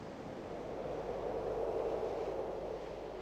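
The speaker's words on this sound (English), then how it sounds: "The southeast coast is battered by strong winds and waves up to 15 feet high." Strong wind and heavy surf with waves up to 15 feet batter the volcanic rock of the southeast coast of Fernando de Noronha, Brazil, making a steady, dense roar that holds at an even loudness throughout.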